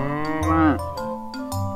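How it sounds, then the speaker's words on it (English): A cow, a big farm animal, moos loudly and up close in a long drawn-out low call, followed by a shorter second moo, with no voices around it. "And it makes the sound moo."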